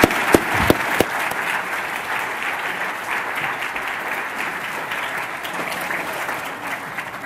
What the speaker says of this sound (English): you can give them a round of applause for that